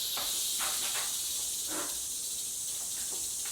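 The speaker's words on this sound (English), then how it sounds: "I'm going to be taking some water and dumping it in the cage" Water is poured and splashed onto mulch bedding inside a snake enclosure, a soft hissing spatter in several short bursts over a steady quiet hiss, close by.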